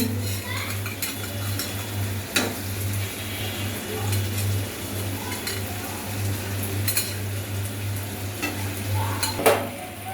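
Rohu fish pieces going into a frying pan amid a steady background sizzle, with scattered clinks and stirring scrapes of utensils against the pan and a low hum underneath.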